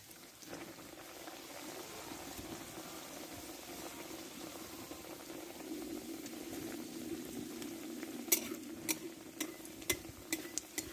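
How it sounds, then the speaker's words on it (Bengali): A raw-potato mughlai paratha fries in hot oil in a wok, giving a quiet, continuous bubbling that grows slightly louder, with a few sharp ticks and spatters toward the end. "কড়াইও তেল গরম করতে দিয়ে দিয়েছি আমি এবার ভেজে নেব"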